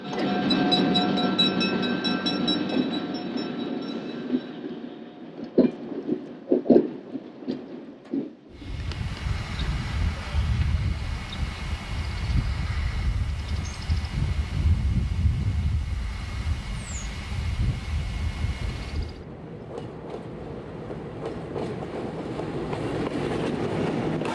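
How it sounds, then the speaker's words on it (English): A Santa Fe San Francisco Chief passenger train, westbound Train Number 1, pulls into Pinole and leaves again, starting with a low engine idle and horn-like tones, then a loud sustained roar of passing cars and wheels before it quiets to a rumble. "Westbound San Francisco Chief Train Number 1 is seen arriving and departing Pinole."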